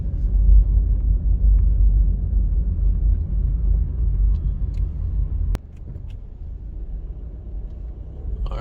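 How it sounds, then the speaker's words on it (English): A car drives through the grounds of Devon House, its low engine and road rumble loud and steady up close, then dropping abruptly to a quieter hum partway through. "a quick drive through Devon House for you guys"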